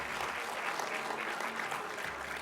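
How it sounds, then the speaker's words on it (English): Sustained audience applause at the close of a 2024 startup accelerator pitch event, a dense, steady wash of many hands clapping indoors without a break. "One more round of applause."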